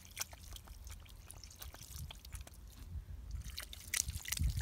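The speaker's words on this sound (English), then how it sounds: "Rinse my hands a little." Water runs and splashes over dirty hands being rinsed outdoors, a faint, uneven trickle and slosh with small drips throughout.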